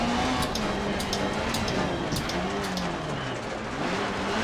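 Peugeot 405 T16 race car driven by Vatanen, a 600 hp four-cylinder with a six-speed gearbox, climbing Pikes Peak: a loud, steady engine roar close up, its pitch rising and falling through gear changes with no talk over it.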